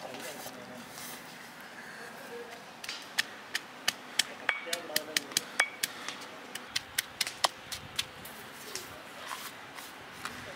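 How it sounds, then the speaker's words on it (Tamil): Ginger, garlic and shallots being pounded, a run of sharp, close knocks that start sparse and then come in a quick, fairly even rhythm over a quiet room background. "இஞ்சி பூண்டு சின்ன வெங்காயம் இடிச்சு எடுத்துக்கலாம்."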